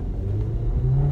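A car engine revs briefly, a low rumbling growl that climbs slightly in pitch over about a second.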